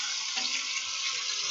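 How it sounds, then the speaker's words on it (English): A steady stream of running tap water splashes continuously at close range as implements are rinsed under it, with no voices. "Now I'm going to rinse them off."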